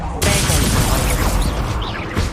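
Incendio fire spell cast in Hogwarts Legacy: a loud, sudden whooshing flare that roars for about two seconds, with crackling and swirling magical tones layered on top.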